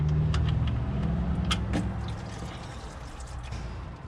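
Engine oil drains from a 2008 Toyota Sequoia during an oil and filter change, a steady low liquid rush and trickle with a few faint metallic clicks, close by and without talk.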